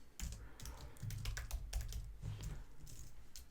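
Rapid tapping on a computer keyboard as names are typed in, a close, quiet flurry of uneven clicks and key strikes with brief pauses, and no one speaking.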